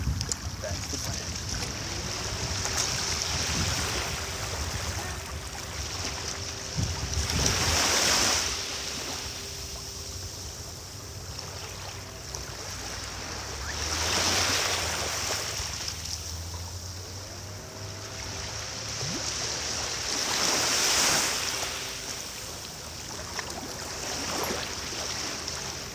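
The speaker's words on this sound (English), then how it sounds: "come on down here to the beach." Waves wash onto a beach in slow swells, the surf rising and falling every several seconds, with a faint tonal hum and occasional distant voices underneath.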